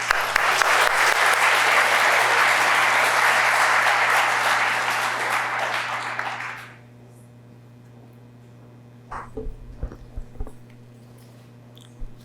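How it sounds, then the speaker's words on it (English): An audience at a college of medicine faculty recognition ceremony applauds in a loud, dense burst of clapping that fades out after about seven seconds, followed by a few faint knocks and shuffles. "Let's give one more round of applause."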